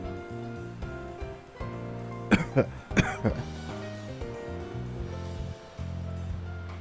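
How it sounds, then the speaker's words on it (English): A few quick coughs burst out in the middle, set against steady music with sustained tones playing throughout. "Couldn't help but cough."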